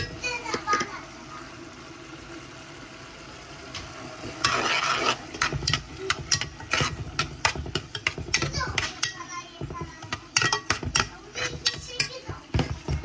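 Coriander, curry, chili and turmeric powders fry in a pan with a soft sizzle under sharp stirring clinks and scrapes, while voices, including children's, talk nearby.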